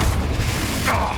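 The Confringo blasting spell from Hogwarts Legacy goes off in a short, loud, noisy burst with a booming low rumble, packed into about a second of dense game combat.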